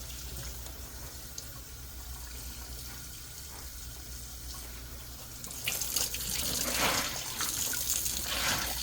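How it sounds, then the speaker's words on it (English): Tap water running in a sink to rinse soda ash out of tie-dyed fabric, a steady close stream that grows louder and splashier toward the end. "I want to make sure that all of the soda ash is rinsed out before I start cranking up the heat"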